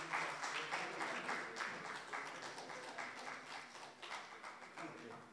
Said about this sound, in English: May I request you all, you know, to please applaud him.